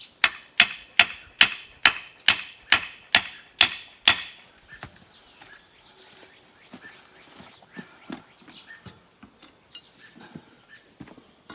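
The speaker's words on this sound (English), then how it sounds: "I'm gonna have to get a hammer." Hammer striking to free something stuck during a driveway project, about nine loud, evenly spaced blows close by, followed by scattered fainter knocks and shuffling.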